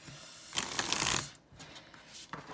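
Oracle card deck being shuffled, a dense riffling burst of paper-card flutter lasting about a second, then a pause and a shorter second riffle, close and clear with no talk.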